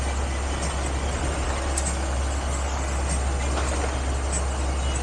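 A skoolie bus engine laboring uphill on a road in Morocco, a steady low rumbling drone with continuous road and wind noise, unbroken and fairly loud throughout.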